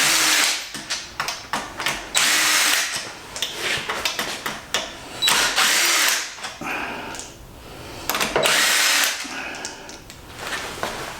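Power tool, likely an impact or drill driver, loosening transmission bolts, with repeated bursts of whirring and rattling broken by short pauses, close and fairly loud.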